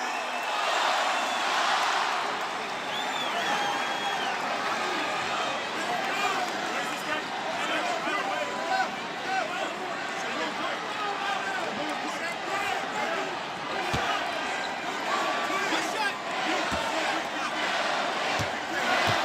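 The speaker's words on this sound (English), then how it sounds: "The crowd chanting, Keldon, Keldon. You can hear it in the background." A basketball arena crowd at a Toronto Raptors versus San Antonio Spurs game keeps up a loud, rhythmic chant of a player's name, with steady crowd roar underneath and an announcer talking over it.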